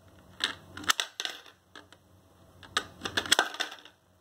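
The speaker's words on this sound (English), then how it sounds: "So you insert your coins through the slot, and it's not that easy." Coins drop one by one into a Sharper Image digital counting money jar, giving sharp metallic clinks and rattles in small clusters with short pauses between, close by and fairly quiet.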